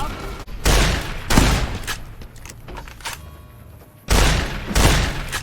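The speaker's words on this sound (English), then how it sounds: "Now I'm in an actual firefight" Loud video-game gunfire in a firefight comes in bursts of rapid shots and booms, separated by a quieter stretch with scattered pops and thuds.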